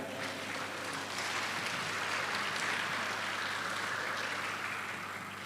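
Steady, even applause from an audience at an international agronursing conference, a dense broadband patter that holds at a moderate, somewhat distant level for several seconds without pause.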